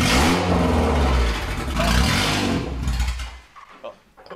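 A car engine revving loud and close through a partly cut exhaust pipe, a rough deep roar that swells twice before dropping to a sputtering idle.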